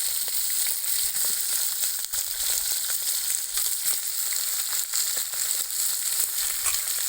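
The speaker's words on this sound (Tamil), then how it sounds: "கட் பண்ண சிக்கன் போட்டு வதக்கிக்கலாம்" Cut country chicken sautéing with curry leaves in a pan over a wood-fire stove: a loud, continuous hiss and sizzle of hot oil, with faint stirring scrapes and crackles underneath.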